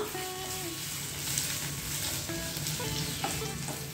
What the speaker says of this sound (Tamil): இப்போ இது லேசான பொன்னிறம் வர்ற அளவுக்கு வதக்கி எடுத்துக்கலாம்.